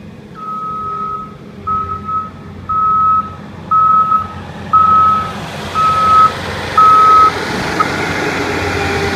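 Road work truck backing up during tar and gravel resurfacing, its reversing alarm giving eight evenly spaced loud beeps over a low idling engine.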